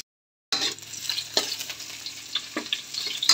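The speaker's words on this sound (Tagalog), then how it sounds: "lagay na natin itong sibuyas at bawang" After a brief silence, onion and garlic hit hot oil and give a steady, close sizzle, with occasional louder crackles and scrapes from stirring throughout.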